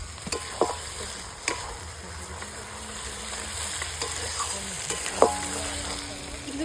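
Tomatoes fry in a pan over a wood-fired clay stove outdoors in a village, a steady close sizzle with occasional scrapes and clicks of stirring and no talk.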